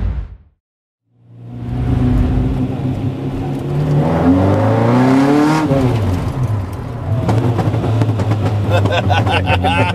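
A TVR sports car accelerating hard: a loud, close engine roar that climbs in pitch through the gears, dips at a shift, then builds again, with a brief quiet moment before it fires up.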